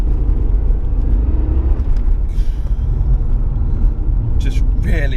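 A Vauxhall Lotus Carlton with twin turbos and 377 horsepower accelerates hard in second gear, giving a loud, steady, close engine roar with heavy rumble throughout and a brief higher whine near the end.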